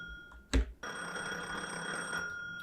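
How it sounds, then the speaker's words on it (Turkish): A telephone rings with a steady electronic tone, faint and indoors, after a short thump, sustained for a couple of seconds as if about to be answered. "Şöyle açalım telefonu."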